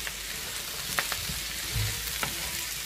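Potatoes browning in a pan with mushrooms are stirred while frying, a close steady sizzle broken by a few soft scraping stirs and light clicks of the utensil.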